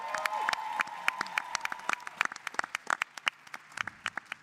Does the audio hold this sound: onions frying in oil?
no